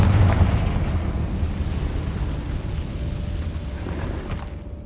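A Confringo blasting spell in the game Hogwarts Legacy sets off a deep rumbling explosion whose booming roar slowly fades over several seconds, with no voices.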